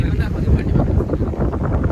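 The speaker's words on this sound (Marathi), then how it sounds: "माग अशा जोरात येऊन लाटा आणि अशा खळखळून आवाज करून" Sea waves crash loudly and churn close by in a brief, dense roar, with wind buffeting the microphone and a voice faintly present.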